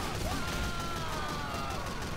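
Thompson submachine gun fire in the video game Team Fortress 2, heard as a dense, continuous rattle of rapid shots mixed into busy game noise at a moderate, slightly distant level.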